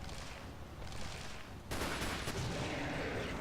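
Gunfire in the Resident Evil 4 survival horror game, a dense noisy burst with a sharp, louder blast partway through, loud and close, with no talking.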